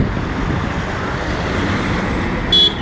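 Road traffic passes near Meenakshi College in Kanchipuram, a steady close wash of car, bus and truck engine noise with tyre roar and a short horn toot near the end, no one speaking.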